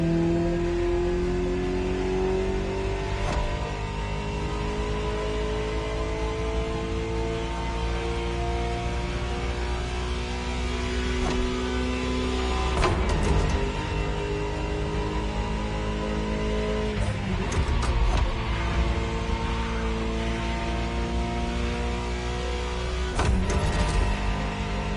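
A Ferrari supercar engine in The Crew video game, a continuous loud drone whose pitch climbs steadily through repeated gear changes with brief shifts and clicks, up close and alone without talk.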